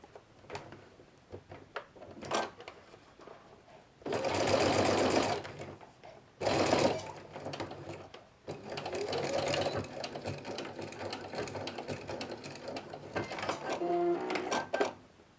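Short bursts of sewing machine stitching attach a small plush tail to a toy body, interspersed with clicks and handling noises, the machine running close and moderately loud in stops and starts.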